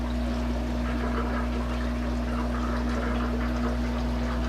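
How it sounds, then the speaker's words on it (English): An aquarium filter drawing water through biological filter media: a steady, close, continuous watery rush and trickle over a constant low electrical hum, unbroken throughout with no talking. "it is pulling water through that material."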